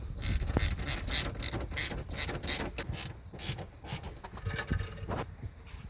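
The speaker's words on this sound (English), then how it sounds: "Tighten them up with that 14mm socket." A 14mm socket ratchet tightens seat bolts while a fire extinguisher is fitted in a Mitsubishi Evo X, giving a steady run of quick, close ratcheting clicks for several seconds with no talk.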